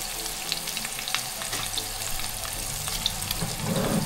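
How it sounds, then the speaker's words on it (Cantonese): Fish roe fries in hot oil in a pan, giving a steady, close crackling sizzle throughout with a few brighter pops and spits and no talking. "煎咗啲魚春嚟食"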